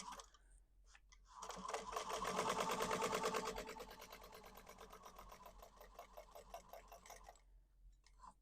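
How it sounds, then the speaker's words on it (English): A sewing machine bastes the raw edge of a vinyl-trimmed purse closed, a rapid, even run of stitching lasting about six seconds, louder at first and then steady, with no talking. "I'm just going to baste that closed just to help hold everything down"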